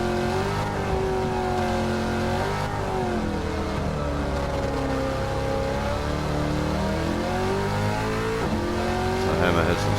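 A race car engine in Gran Turismo 7 at Lago Maggiore roars and climbs through the revs, rising and dipping in pitch over about ten seconds, loud and continuous, with speech mixed in at times.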